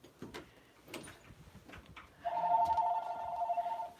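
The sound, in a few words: telephone ringing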